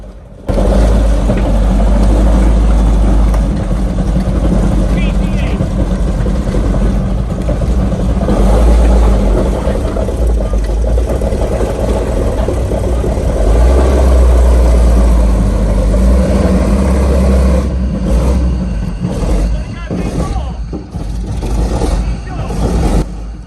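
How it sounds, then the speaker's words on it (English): A T-34/85 tank engine running for the first time after restoration, a loud, steady low rumble throughout with rougher, shifting bursts near the end. "this was the first time we'd actually got this tank running"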